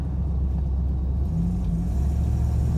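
Car cruising on the road with newly fitted shocks, a steady loud low rumble of engine and road noise from inside the cabin, continuous with no speech.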